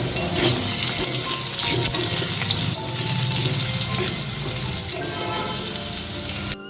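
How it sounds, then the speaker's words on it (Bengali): Bay leaf and a dried red chili dropped into hot oil left from frying potatoes for a pointed gourd and soybean curry, giving a loud, dense, continuous sizzle that crackles steadily throughout. "আলু ভেজে তুলে রেখে ওই তেলের মধ্যে ফোড়নে দিচ্ছি তেজপাতা, একটা শুকনো লঙ্কা।"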